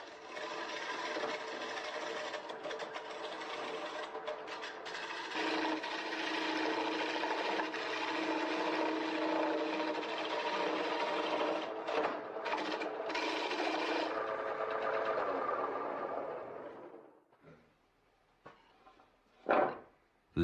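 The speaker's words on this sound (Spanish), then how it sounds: "Cuando el granjero trabaja en el torno, el olor a madera fresca invade el ambiente." A farmer turns wood on a lathe in a secret forest workshop, giving a steady, loud rasping and scraping for most of the stretch before it stops, with a few faint knocks and one sharp clack near the end.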